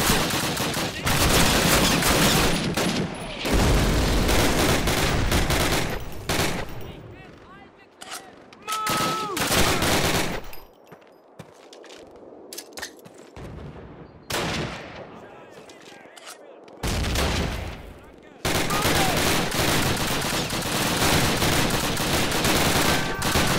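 Call of Duty campaign battle with dense covering gunfire: loud bursts of automatic rifle and machine-gun fire with booming artillery, breaking off into quieter gaps before heavy firing resumes, while voices shout over it.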